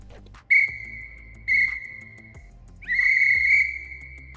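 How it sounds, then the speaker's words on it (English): A person whistles to a dog during desensitization training, giving three clear, high, steady whistle notes close by, two short and one longer, separated by brief quiet gaps. "Well, that's enough of the whistling."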